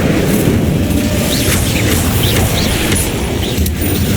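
Repeated Incendio fire spell blasts in Hogwarts Legacy, loud booming bursts layered over continuous rumbling combat noise, with several sharp magical flares in quick succession.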